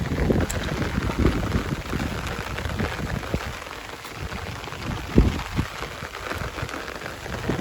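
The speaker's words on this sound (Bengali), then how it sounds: "বৃষ্টির মধ্যে প্রচুর বৃষ্টি হচ্ছে বৃষ্টি চলছে" Heavy rain falls on a rural field road, a steady dense hiss of drops close by with occasional louder splashes, no voices.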